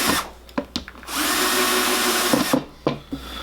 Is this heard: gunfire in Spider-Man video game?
no